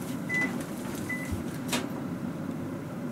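A microwave oven being opened in a home kitchen to take out fried chicken tatsuta-age, with soft beeps, a latch click and a muffled thud over steady room hum.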